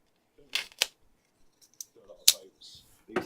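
A knife slices open plastic packaging for parts of an X-Maxx RC truck in sharp, separate cuts and crinkles spread across a few seconds, close by, with brief speech mixed in.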